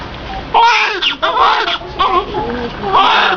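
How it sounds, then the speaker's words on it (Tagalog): An infant cries in wavering, high wails that rise and fall in several bursts, loud and close, with some babbling-like whimpers between cries. "Iyak ng bata."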